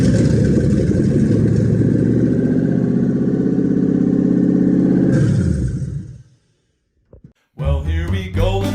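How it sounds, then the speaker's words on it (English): A freshly rebuilt car engine, built in a rush for a road rally, fires up and runs with a loud, steady droning roar, then dies away; a voice is heard briefly afterward. "We got an engine, and now time to fire."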